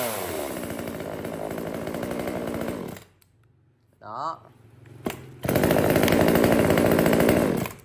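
Mini chainsaw on sale for cutting and pruning branches, its small engine revving in a loud, steady buzz, cutting out for a brief pause with a short voice and a clack, then roaring back up to full speed.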